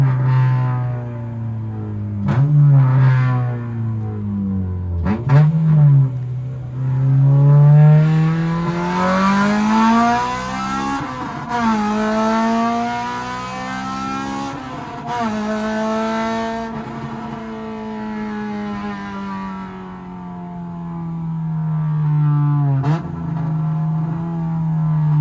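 Honda Civic with a K-series engine driving, heard from inside: the engine pulls through the gears in repeated rising revs with shift dips, loud and close, with no talk.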